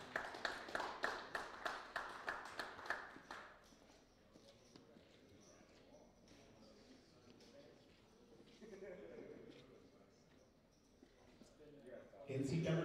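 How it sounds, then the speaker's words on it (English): A burst of audience clapping at a poker final table, crisp and fairly close for the first few seconds, then fading into quiet room murmur and faint voices. "Give a round of applause for Robert Heidorn."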